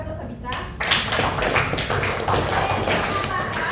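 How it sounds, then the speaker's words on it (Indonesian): Classmates clap in a school classroom for a student who answered, a dense burst of applause starting after a brief quiet moment and continuing steadily to the end. "Tepuk tangan buat Sabita."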